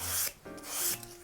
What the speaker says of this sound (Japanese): ここもやすりがけ